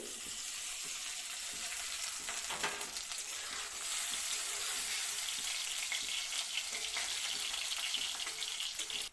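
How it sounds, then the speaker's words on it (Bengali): Lentil dumplings (bori) dropped into hot mustard oil in a kadai, frying with a steady, hissing sizzle that rises slightly partway through and continues alone, faint and even. "তেলটা ভালো করে গরম হয়ে গেছে এবার দিয়ে দিলাম বড়ি"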